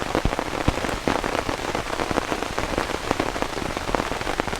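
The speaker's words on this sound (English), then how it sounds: "it's just so loud with the rain" Heavy rain pours down in a windy storm, a loud, dense, continuous drumming with sharp spattering drops throughout and no voices.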